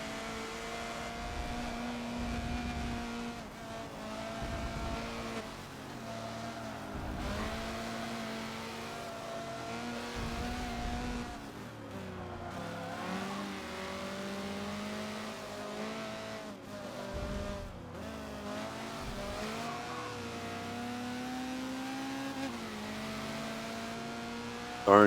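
Racing cars roar around the Circuit of the Americas West track in Forza, with a Honda CRX engine revving steadily through gear changes, continuous and close, with tire squeal and no talk.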